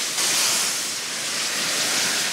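Boiling water hits a hot caramel-coated pan, producing a loud, broad hissing rush that holds steady for a couple of seconds with no voices.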